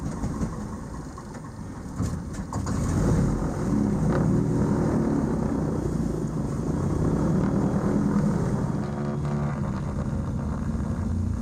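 A twin-engine Britten-Norman BN-2 Islander propeller plane in flight, heard from inside as a loud, steady droning roar that swells slightly after the first couple of seconds and holds constant.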